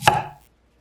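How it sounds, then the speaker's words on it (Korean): A knife chops once through sweet potato into a round slice, one sharp close thunk against a board that fades quickly. "고구마는 동그란 모양으로 자르세요."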